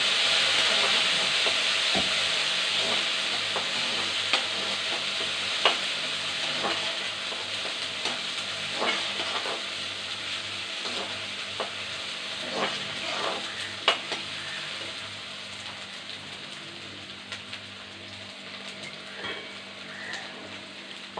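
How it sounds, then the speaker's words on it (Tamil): Tomatoes sizzle in a pan over already softened onions for a pumpkin pachadi, making a soft, steady frying hiss. Scattered clicks and scrapes of stirring come and go throughout, with no talking. "வெங்காயம் வதங்கிச்சு, இப்போ தக்காளி போட்டுக்கலாம்."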